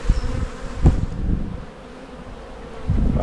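Honey bees buzzing during an inspection of a split-box hive, a continuous close drone with a sharp knock partway through and some handling noise.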